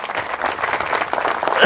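Crowd applause at a municipal political convention in Doltala, a dense, steady clapping from a large audience that swells slightly toward the end, with no talk over it.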